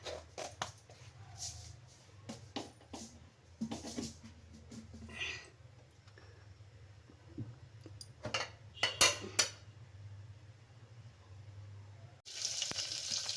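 Soft crackle and sizzle of mustard seeds in a small amount of hot oil for a lentil rasam, with scattered clinks of a utensil against the pan, close and fairly quiet.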